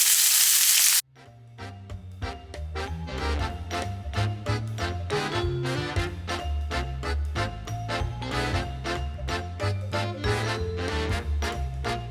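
Seasoned meat hits a hot pan for a quick weeknight dinner, opening with a loud one-second hiss, then settling into a dense, steady crackle of popping sizzle that continues without pause.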